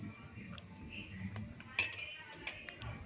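A metal spoon scrapes and clinks against a pot while boiling kadhi is stirred, soft repeated strokes close by over a low bubbling simmer.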